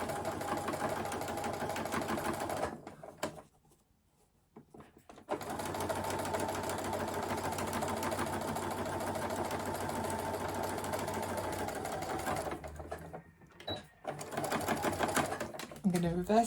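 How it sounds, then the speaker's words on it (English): A sewing machine stitching piping into a fabric seam runs with a steady mechanical whir, stops briefly, then resumes for a long run before slowing and pausing again. A voice talks over it. "Then I'm going to follow that line of stitching all the way down the seam."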